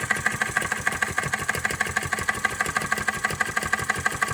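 A Retrol Flame Licker RE01 vacuum engine runs steadily, giving off a fast, even, mechanical ticking and thumping beat that repeats without a break from start to finish.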